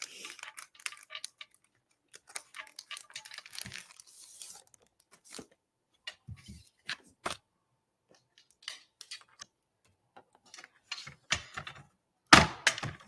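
Scissors snip through a craft adhesive sheet for a mosaic card project, giving a series of short crisp cuts and papery crinkles at close range, separated by quiet pauses, with a sharper louder snip near the end.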